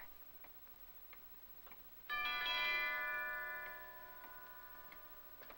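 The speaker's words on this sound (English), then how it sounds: "He just rang the bell again and then stood there." A doorbell in a 1951 film rings once with a bright, sustained ringing tone that fades slowly, following a faint steady ticking in a quiet room.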